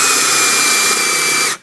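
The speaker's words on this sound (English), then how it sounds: "I like to use a spade drill bit, put it right up near the edge here." A power drill fitted with a spade bit bores through a rotted window sill, giving a steady whining, grinding drone at close range that cuts off abruptly at the end.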